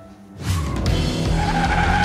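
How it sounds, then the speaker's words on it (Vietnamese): Cartoon sound effect of a car engine revving with tires skidding, bursting in loudly after a quiet start and holding a sustained roar with squealing tones. "Hãy nghe tiếng vang và tiếng động cơ này đi."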